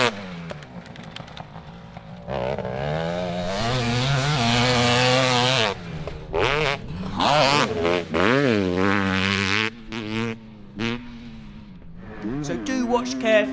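600cc two-stroke racing motorcycle engine on a lap, loud and close, revving up and down through repeated gear changes with sharp rising and falling pitch sweeps and brief throttle-off dips.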